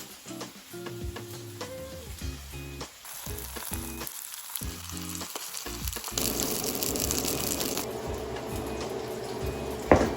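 Steak sizzling and searing in a hot pan, a steady crackling fry that starts with clattering kitchen handling and grows into a loud, continuous sizzle, with no talking.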